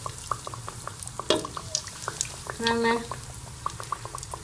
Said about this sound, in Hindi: कुकिंग ऑयल को जो है वो मैंने अच्छी तरह से गरम कर लिया है। अब हम इसमें नगेट्स जो है वो फ्राई कर